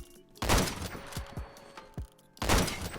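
Sniper rifle fire in the Phantom Forces video game: two loud, sharp blasts about two seconds apart, with lighter thuds and clicks of gun handling between them.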